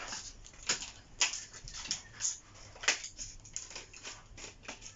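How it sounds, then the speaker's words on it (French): Fabric scissors cut through cardboard in a series of sharp, uneven snips and crunches, close up and fairly quiet, with pauses between cuts. "Un ciseau à tissu, la meuf, elle est partie couper du carton"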